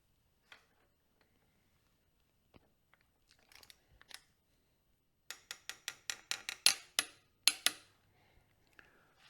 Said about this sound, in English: I'm going to torque these two, and they're both torqued to 30 foot-pounds